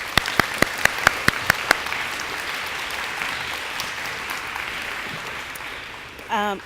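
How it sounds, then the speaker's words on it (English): A quick burst of sharp claps rings out first, then a crowd's applause at a school DARE graduation settles into a steady wash that fades toward the end. "Round of applause for Officer J"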